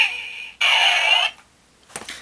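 Electronic Kamen Rider OOO Driver toy scanning a cell medal: a bright synthetic beep tone, then a louder buzzing chime burst, a pause, and a short sputtering electronic chirp at the end, loud and close.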